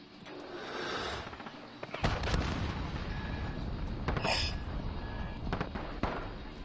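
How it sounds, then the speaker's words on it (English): A cruise missile strike in Call of Duty Modern Warfare lands as a dense run of booming explosions and crackling blasts, with a sharp impact near the two-second mark and rumbling detonations continuing after it. "Enemy cruise missile."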